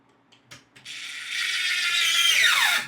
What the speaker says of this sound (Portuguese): E para fixar as laterais, coloco aqui as cavilhas, faço o encaixe e com o parafuso A vou fazer a fixação